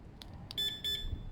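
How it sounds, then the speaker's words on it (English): The aftermarket alarm on a Zontes Mantis 125 cruiser motorcycle gives two short, high electronic chirps after a couple of faint clicks, close and clear, with no talk. "alarmed, it will give you a warning, and it will set off the loudest alarm ever in the whole wide world when somebody sits on it"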